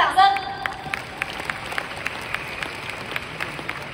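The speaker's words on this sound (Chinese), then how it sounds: "给你们自己一个掌声。" Audience applause at a leadership training conference in Malaysia, heard as a faint, thin patter of claps in a large hall that quickly settles into a few scattered, sharp individual claps spaced out over several seconds.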